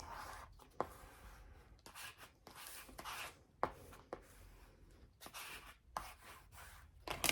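Soft scraping and rubbing strokes of a spatula pressing glued paper edges flat on a hidden journal spine, in short repeated passes with brief pauses, close and fairly quiet with no talking.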